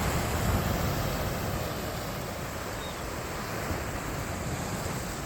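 Sea waves wash onto a beach at Velas near the mouth of the Savitri river, a steady, broad roar of surf with wind noise across the microphone and no voices.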